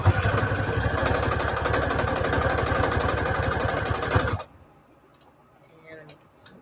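A sewing machine back stitches a soft fabric cover stiffened with Peltex, a fast steady mechanical whir close and loud for about four seconds before stopping abruptly into near quiet.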